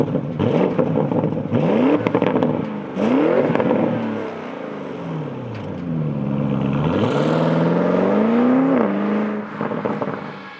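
A 2021 Porsche Cayenne GTS Coupe engine rises and falls through several accelerations, with rising pitch sweeps and gear changes, loud and close, with no talk.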